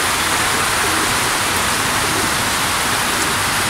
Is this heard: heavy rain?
yes